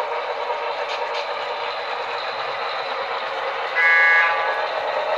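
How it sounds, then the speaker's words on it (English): An HO scale Pennsylvania T1 duplex model locomotive speeds past on a layout with a steady, buzzing motor whir, and a brief whistle-like tone sounds near the end. "There's the Pensy T1 duplex speeding by."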